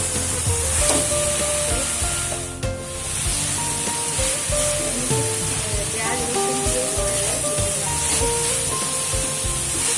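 Masala for banana-flower ghonto sizzles under a lid in a pan over a medium flame, a dense steady hiss and crackle running loud and continuous throughout.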